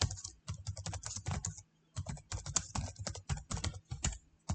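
Computer keyboard typing in bursts of quick, close keystrokes with short pauses between runs, alone without voices.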